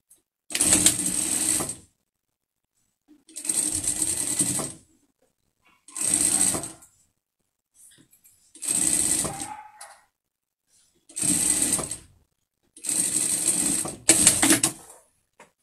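A sewing machine stitches the chin seam of a fabric pet mask in six or seven separate bursts of steady mechanical whirring, each lasting one to two seconds with short silent pauses between, close and clear with no talking.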